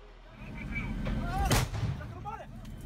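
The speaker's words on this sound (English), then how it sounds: "Three grenades land in the street." Gunfire and grenade blasts ring out in a street battle as ISIS fighters on rooftops attack Iraqi forces, with a loud, sharp detonation near the middle over a rumbling, continuous din of combat.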